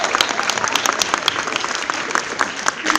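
Audience applause at a middle-school jazz concert for the booth crew, a dense, steady wash of clapping from a full room, fairly loud and continuous throughout.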